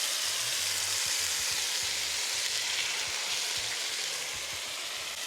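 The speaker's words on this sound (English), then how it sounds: "It's sizzling hot." Steady, dense sizzling of chicken frying in a hot pan, a continuous bright hiss with faint low crackles underneath, fairly loud and unbroken throughout.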